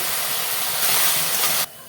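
Red amaranth greens cooked with poppy seed, fried eggplant and vadi fry in a pan, giving a loud continuous steamy hiss that cuts off abruptly near the end.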